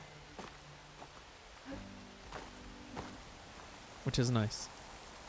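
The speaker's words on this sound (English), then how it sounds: "It sounds different, I think, when it's like hitting the rocks or when there's less" Rain from Horizon Forbidden West falls on rocks and grass as a steady soft hiss, with a few game sounds and a brief spoken remark near the end.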